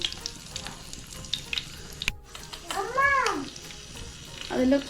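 Fenugreek seeds crackle and sizzle in hot oil in a Kerala-style fish curry pan, a steady hiss with two brief meow-like cries rising over it.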